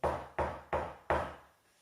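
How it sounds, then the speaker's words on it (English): Four firm knocks on a wooden door, evenly spaced and fairly close, with nothing else around them. "an otter knocked on the back door,"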